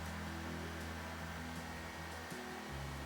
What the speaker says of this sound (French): C'est un ventilateur qui peut osciller.